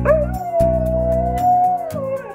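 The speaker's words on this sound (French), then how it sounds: "Et peut-être que votre chien, lui aussi," A dog lets out a long, sustained howl that wavers slightly in pitch, carried over steady instrumental chords that change underneath it.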